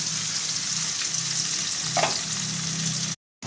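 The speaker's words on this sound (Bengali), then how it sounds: "এই পেঁয়াজ আর রসুনটা আমি এবারে ভেজে নেব" Onion and garlic sizzle in hot oil while being stirred, a close, steady frying crackle with spatula scrapes, ending in a brief sudden cutoff before the sizzle resumes.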